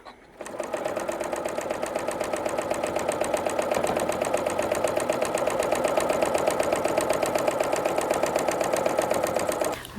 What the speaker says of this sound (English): I can simply just stitch right in the ditch